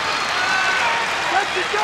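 Thousands of fans at Carver Hawkeye Arena clap during a college wrestling match, Iowa's Mike Mena against Felix of ASU, a brief dense wash of applause filling the arena.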